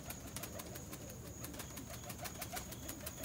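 Almond and Andalusian pigeons in a loft coo softly and faintly over a steady background hiss, with light rhythmic flutters that could be wings.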